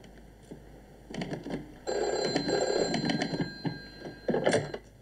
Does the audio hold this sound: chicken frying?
no